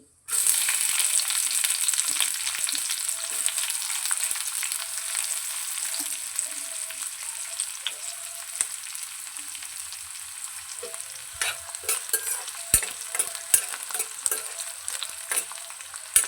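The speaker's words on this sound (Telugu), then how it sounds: "ఈ ఆనియన్ ముక్కలు రెడ్ కలర్ వచ్చే వరకు వేర్చాలి చేయాలి" Chopped onions fry in oil in a pan with a dried red chilli, stirred steadily; a continuous close, loud sizzle with scraping strokes and a few sharper clinks near the end, no talking.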